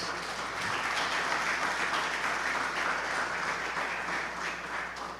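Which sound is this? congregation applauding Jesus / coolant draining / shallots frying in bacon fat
congregation applauding Jesus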